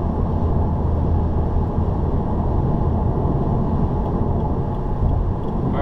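A 2015 Subaru WRX cruises at highway speed with a steady low engine drone under road and wind rumble, building gently as it accelerates from 60 to 65 mph, heard from inside the cabin with no talk.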